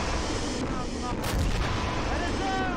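Artillery blasts and gunshots in the Army Men of War battle game, a sharp booming impact with crackling shots around it, fairly loud, with a voice speaking briefly.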